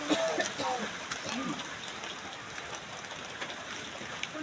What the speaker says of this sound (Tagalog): Makas na yung ulan na yun